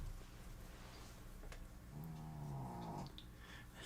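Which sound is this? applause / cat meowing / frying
cat meowing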